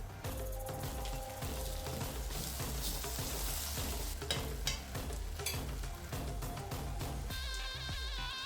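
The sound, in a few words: stirring and mixing chicken noodles in a pan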